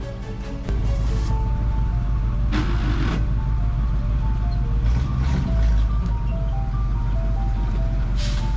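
A GAZ-69 car engine runs steadily and loudly from the start, its low rumble pulling away as the vehicle drives off, with brief higher rattles and no talk over it.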